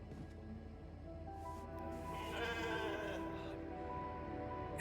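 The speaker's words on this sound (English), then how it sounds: "Never thought I'd be so glad to see a sheep." Sheep bleating in The Alters game, a wavering bleat rising from the middle of the clip over a background of music and ambient hum, close and moderately loud.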